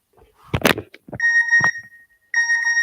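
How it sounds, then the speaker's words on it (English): A phone's text message notification ringtone plays as a bright, steady electronic tone in two bursts, the second after a short gap. A brief noisy clatter comes just before it. "You have a text message."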